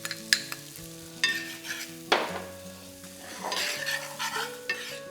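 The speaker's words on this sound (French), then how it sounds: "on va faire revenir de petites échalotes" Small shallots sizzle in Bresse butter in a pan, stirred a few times, with utensil scrapes and clinks over a steady close frying hiss; no speech.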